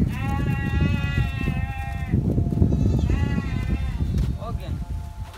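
Goats and sheep on a rural farm bleat in a few drawn-out calls, near and fairly loud, while people talk throughout.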